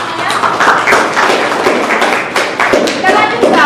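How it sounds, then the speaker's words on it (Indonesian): A classroom of students claps for their classmates, loud and close with irregular clapping and taps over a busy room, while voices speak through it. "Oke, tepuk tangan untuk teman-teman saya."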